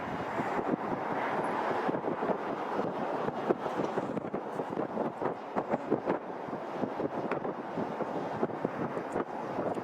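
An Emirates airliner departs London Heathrow with a broad, steady jet roar. Wind buffets the microphone throughout and nearly buries it.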